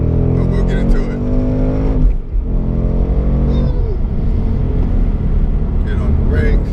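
A 675-horsepower Roush 670 Warrior Scout Mustang drives a tight, twisting road, its engine droning loud and steady with rising and falling revs while someone talks over it from inside the car.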